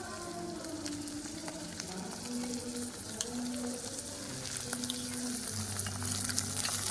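Small pieces of chicken fry in a pan for a Bengali stuffed potol dolma, giving a steady close sizzle with occasional stirring scrapes and no talking throughout.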